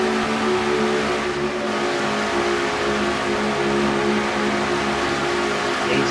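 A race car engine in a racing video game screams near 9,000 RPM into turn one at Atlanta, a loud, continuous high-revving drone that stays steady and close throughout, with no voices.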